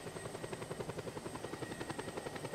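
A low-flying helicopter in the game Just Cause 2 gives a steady, fast rotor thump, a continuous pulsing chop throughout with no voices.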